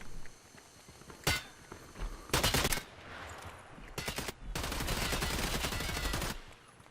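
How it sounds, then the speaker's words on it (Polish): Gunfire in the Hired Ops video game: a sharp single shot, then short rapid bursts, ending in a long sustained volley of automatic fire. "Tam się strzelają"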